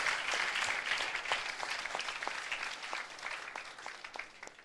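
An audience claps in a steady, fairly dense round of applause that slowly thins toward the end, with no voices on top.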